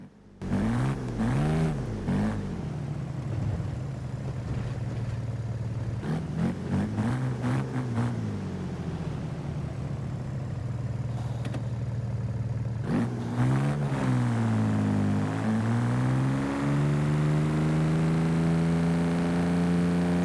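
A BMW M4 engine in the video game Forza Horizon 5 revs repeatedly, its pitch climbing and falling in bursts, then settles into a sustained high drone; loud and close, no talking.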